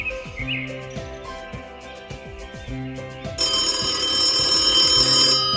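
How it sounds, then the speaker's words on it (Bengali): A telephone rings repeatedly with an electronic ringtone over a pulsing background tune, growing louder and brighter partway through. No one speaks. "ফোনটা বেজে উঠল"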